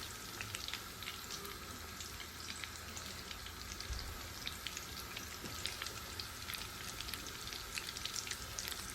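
Onion and potato chops frying in hot oil, a steady close crackling sizzle with dense small pops throughout, no talk.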